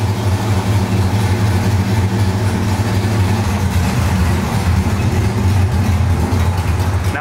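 A Chevrolet Camaro SS 1LE engine running nearby, a deep, steady rumble with slight throbbing pulses throughout, loud and unbroken with no talk.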